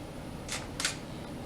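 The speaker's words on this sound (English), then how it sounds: "And you can hear my slow shutter speed" A camera shutter firing at a slow shutter speed during a still life photoshoot: two soft, distinct clicks about a third of a second apart, faint against a quiet room.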